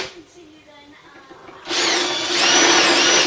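A power drill drives a bit straight through a metal bracket during a Mk3 Ford Cortina restoration, starting after a quiet moment and then whining loudly and steadily up close.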